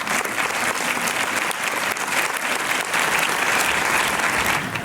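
An audience in a cinema applauds warmly, a steady, full wash of clapping that carries evenly from start to finish without any speech.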